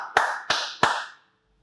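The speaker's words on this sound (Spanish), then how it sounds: "Dale un fuerte aplauso a nuestro Dios." In a church, three sharp, loud claps come in quick, even succession, each ringing briefly in the room before fading to silence.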